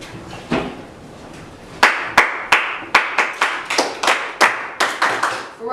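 Students clapping together in a classroom, a dozen sharp unison claps in a steady rhythm after a quieter stretch of scattered sound, close and crisp.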